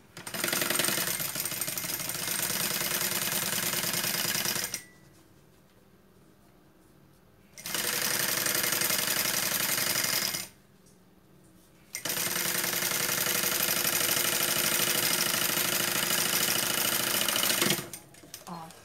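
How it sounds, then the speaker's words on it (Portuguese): A sewing machine stitching the lining of a handmade bag runs in long loud stretches of fast, even rattling, stopping twice for a few seconds of near silence before starting again. "Nós vamos passar um pé de máquina, assim, ó."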